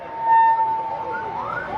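An ambulance siren wails at a street protest in front of a parliament building, a loud, near tone holding steady then rising and sweeping, with voices over it.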